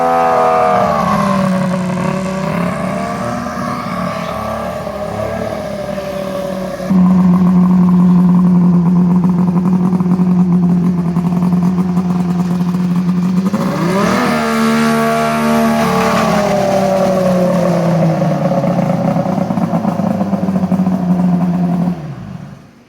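A Polaris 650 triple turbo snowmobile engine revs in snow, holding a loud, steady drone that rises and falls through a few rev swells before cutting off at the end, with no voices.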